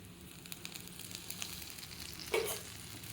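Small flattened vadas frying in oil on a dosa pan, giving a soft continuous sizzle with faint crackles and a brief louder burst near the end, heard close and quiet with no talk.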